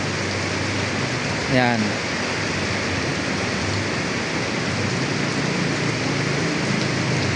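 Heavy rain falling during an evening downpour, a loud, steady hiss filling the whole stretch, with a brief voice and a short sweeping tone near the start.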